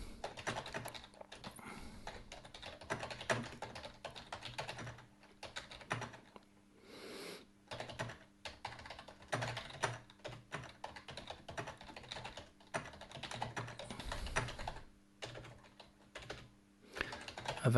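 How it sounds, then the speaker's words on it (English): Quiet bursts of typing on a computer keyboard, irregular runs of soft clicks broken by short pauses, close and alone without any speech. "so you guys don't have to watch me typing every line out and making lots of mistakes"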